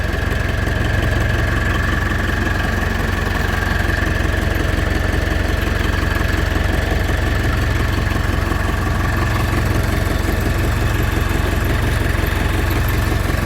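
A tractor engine, started in winter with the help of a welding machine, idles close by with a loud, steady, knocking chug that runs unbroken throughout.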